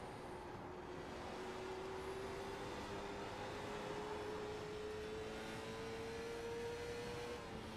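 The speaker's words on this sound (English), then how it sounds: "I love the way these cars sound and stuff." Race car engines from a Myrtle Beach 400 event in a racing video game, heard as a faint, steady engine whine that climbs slowly in pitch across the whole stretch with no talk over it.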